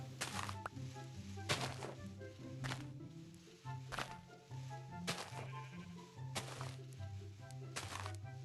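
Blocky Minecraft sheep bleat repeatedly in a video game, sharp calls recurring about every second over a low looping game tone and occasional thuds.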